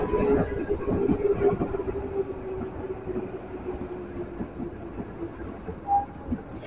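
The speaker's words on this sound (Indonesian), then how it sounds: "Ini kereta JR 205." A JR 205 commuter train on the KRL CommuterLine toward Rangkasbitung rolls past with a steady rumble and light wheel clatter, moderately loud at first and easing off, with a faint tone near the end.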